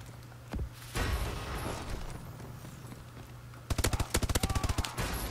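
KF5 submachine gun in Call of Duty: Advanced Warfare multiplayer, short shots and a sustained burst early on, then a fast rhythmic string of about a dozen rounds near the end, loud and close.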